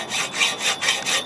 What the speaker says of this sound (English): You just cut it with a hacksaw.